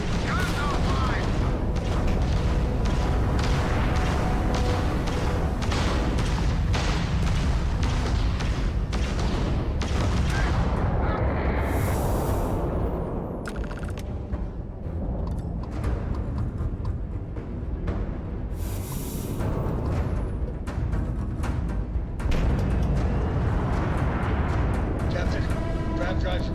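Spaceship guns firing in the space game Starfield: dense, loud booming bursts and blasts stacked together almost nonstop, with a brief lull midway, while voices talk throughout.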